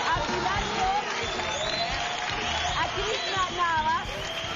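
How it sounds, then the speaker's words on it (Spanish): A studio audience on a television program breaks into sustained applause, a dense, steady wash of clapping mixed with cheering and crowd voices that stays loud and even throughout. "Y saludamos con este fuerte y cariñoso aplauso a Patricia Larraín."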